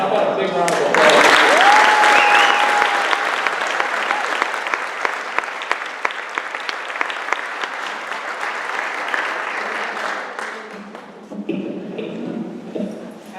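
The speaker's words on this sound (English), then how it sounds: "How about a big round of applause?" Enthusiastic applause from a crowd at a graduation fills the space, loud at first then gradually thinning into scattered claps, with a brief whistle or cheer early on.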